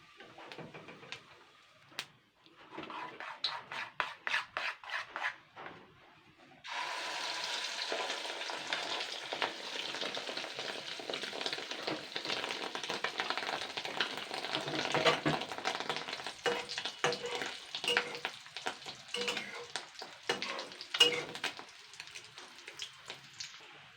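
Fish roe fritters sizzle steadily in hot oil in a pan, a loud continuous frying hiss after a few scattered pops at the start, with occasional stirring clatter and no talk.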